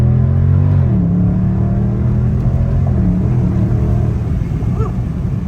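A 2020 Dodge Charger Scat Pack Wide Body accelerates, a loud close engine roar heard from inside the cabin with rising and shifting pitch as it pulls hard, and no talk over it.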